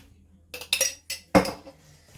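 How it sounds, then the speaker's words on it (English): Utensil clinking and scraping against a bowl while coleslaw is tossed and coated in dressing, four quick clattering bursts, close and fairly loud, no talk. "Again, just a nice little mix to make sure everything gets coated in that."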